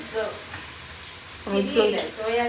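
Chilli sauce hits a hot pan of chicken fried rice and sizzles. Short bursts of frying hiss come up near and loud, with a person speaking between them.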